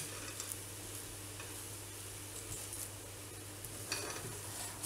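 Fine semolina roasting in ghee in a pan, stirred steadily, giving a soft continuous sizzle with light scraping touches and a low steady hum underneath, no voices.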